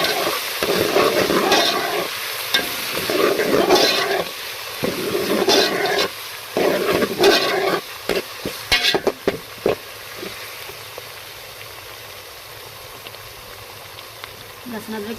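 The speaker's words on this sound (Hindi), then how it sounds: "लहसुन अदरक के पेस्ट को हमने अच्छे से भून लिया।" Garlic, ginger and green chili paste frying with chicken in a pan, a steady sizzle under bursts of stirring and scraping, close and moderately loud, with a person talking at times.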